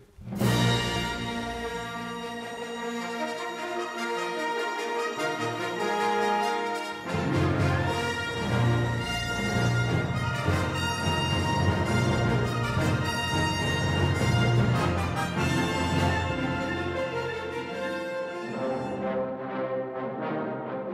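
A full orchestra plays a sweeping, dramatic film theme, swelling loudly after a quieter opening and continuing with rich sustained strings and brass, no voices.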